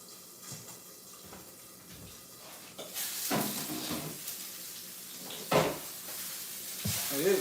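Fish cooking in a pan, a soft sizzle with intermittent clatter and scraping, plus bursts of louder hissing and handling noises.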